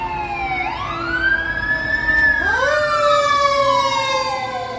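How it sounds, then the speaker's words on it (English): A fire engine siren wails and sweeps up and down in pitch as the truck passes along a street by Balboa Park, loud and fairly close, with traffic rumble underneath and nobody speaking. "here comes a fire engine."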